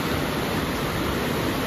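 A river or stream in rural Nepal, where traditional cast-net fishing happens, flows steadily with a dense, even rush of water close by and no voices.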